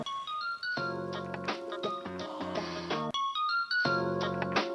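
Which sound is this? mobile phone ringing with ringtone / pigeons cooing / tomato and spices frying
mobile phone ringing with ringtone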